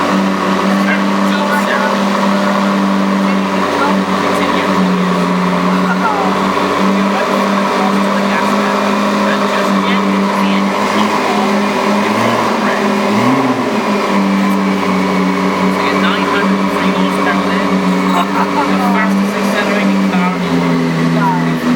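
A McLaren P1 supercar idles steadily with a deep, even engine drone, briefly swelling in a small rev midway before settling back, heard up close with faint voices underneath.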